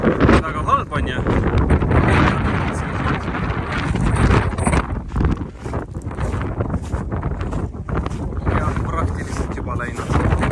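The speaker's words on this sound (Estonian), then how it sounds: "Ma kohe näitan, kui kiiresti tuul ära kaob." Strong wind buffets the microphone outdoors on an expedition boat trip, a loud continuous roar with gusty swells that fills the whole clip.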